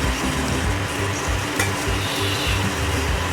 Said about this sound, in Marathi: ते बघा बटर घातल्यानंतर आपल्याला व्यवस्थित मिक्स करून घ्यायची आहे